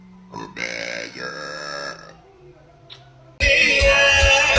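A baby girl lets out burps amid soft babbling and cooing, close and moderately loud, with a burst of louder broadband noise near the end.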